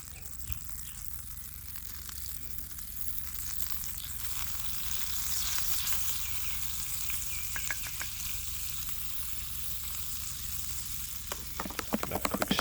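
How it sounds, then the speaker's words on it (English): Food sizzles steadily in a frying pan while it is stirred, a continuous close crackle with light scraping, and a few sharper clicks near the end. "Give that a quick stir."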